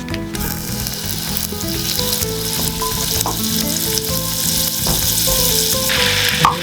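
Half a cup of butter sizzles loudly and steadily in a pan, a close, dense frying hiss that holds throughout, with faint mechanical rattling beneath.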